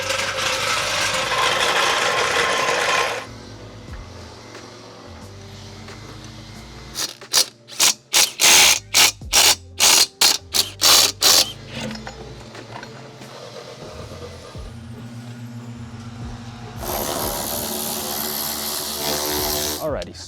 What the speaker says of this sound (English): I'm just loosening up the bolts here for the front side of the fender liner.